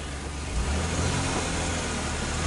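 A van engine idles steadily with the inverter running, a continuous low rumble with a slight swell in loudness partway through and no talk over it.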